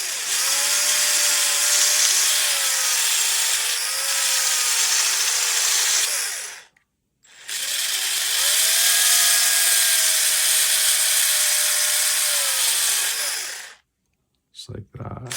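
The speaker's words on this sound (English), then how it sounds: "use a power tool and do it this way." A power tool grinds metal off a steering part of a Traxxas TRX4M 1/18 RC crawler in two long, loud, steady whining bursts split by a short silence, then a few brief taps.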